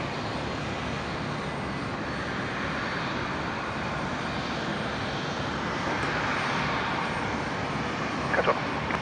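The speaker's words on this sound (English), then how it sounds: "the Embraer going to Canberra this afternoon. Expect that to be a full-length departure." A Qantas Link Embraer jet runs up for a full-length departure off runway 01 right at Brisbane airport, a steady broad engine roar, distant but sustained, rising slightly toward the end with no speech.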